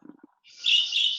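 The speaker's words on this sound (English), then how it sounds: "I hear a bird." A bird chirps indoors during an online lecture: a faint low rustle at first, then a single bright, sustained high-pitched call that rises clearly above the quiet room.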